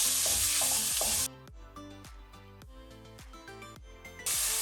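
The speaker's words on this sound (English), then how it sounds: "while we use low heat fry pork, we want some oil out of the pork to become part of the sauce" Pork frying over low heat in oil in a pan for Beijing noodle sauce, a steady soft sizzle and stirring heard up close, loudest at the start and end with quieter, more broken frying in between.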